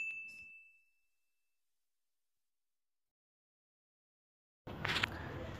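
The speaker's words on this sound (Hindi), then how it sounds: "घंटा बजाओ" A single bright bell ding rings out, then decays over about a second into silence, followed by a short burst of rougher noise near the end.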